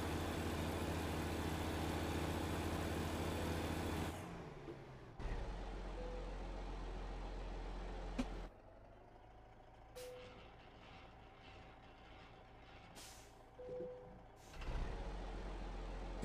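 A heavy truck in American Truck Simulator rumbles with its engine, broken up by hissing air-brake releases, abrupt cuts and short reversing beeps over low idling, no voices.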